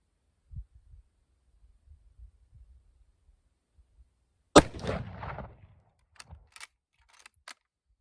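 One sharp, loud gunshot from an M44 bolt-action rifle fired at a 50-yard target cracks out of near silence, trailing a short echoing decay, followed by a few faint clicks and handling noises.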